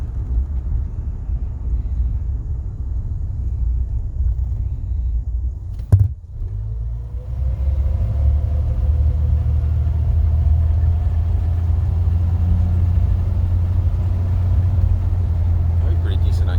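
A 1951 Chevrolet Styleline Deluxe drives along with a steady low engine and road rumble filling the cabin, a sharp thump midway, then the drone continuing evenly with faint rising engine tones.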